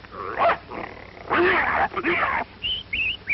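A voice imitates a dogfight, mixing growls, snarls and high yelps in several uneven bursts, close and fairly loud, in a 1942 Western film.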